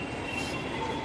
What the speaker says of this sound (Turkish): şu an metrodayım